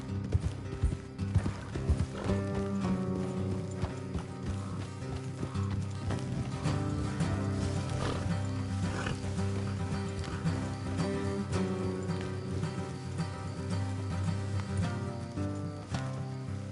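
Hooves clip-clop at a steady pace beneath a continuous bed of music, with a horse briefly whinnying.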